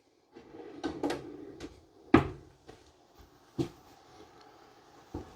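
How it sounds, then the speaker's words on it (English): Several clattering knocks of a full-extension ball-bearing cabinet drawer in a 2024 Forest River Vibe 19RB travel trailer being slid and handled, a few sharper thuds spaced apart, close by with quiet gaps between. "Right here you can see we have full extending ball bearing drawer guided drawers."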